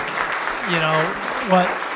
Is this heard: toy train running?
no